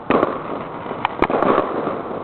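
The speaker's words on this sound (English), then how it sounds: "This is fireworks from every direction." Victoria Day fireworks bursting on several sides, a loud close pop at the start followed by sharp cracks and a steady rumbling crackle of distant explosions, with no talking.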